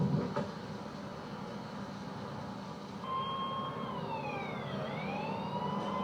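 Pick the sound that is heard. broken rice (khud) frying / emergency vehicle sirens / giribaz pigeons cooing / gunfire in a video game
emergency vehicle sirens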